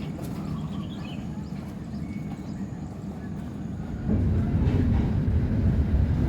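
The Harina economy passenger train pulls out of Cepu station in Indonesia early in the morning, a steady low rumble of rolling wagons that grows louder about two-thirds of the way through.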